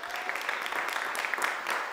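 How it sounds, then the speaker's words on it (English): A game show audience applauds teams on stage at a superhero race contest, a dense continuous patter of many hands with scattered crowd voices mixed in. "Round of applause for them with more superheroes."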